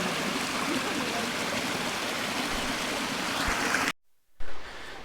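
Red Creek rushing past a hiking trail crossing in a forest; a loud, close, steady wash of flowing water that cuts out abruptly near the end, then returns briefly.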